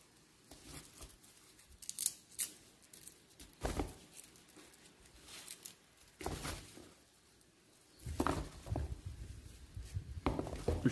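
Chive bulbs having their tips snipped, heard as a series of short, close, crisp cuts and rustles in irregular bursts, with busier handling sounds toward the end.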